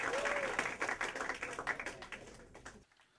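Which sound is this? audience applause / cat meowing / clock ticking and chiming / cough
audience applause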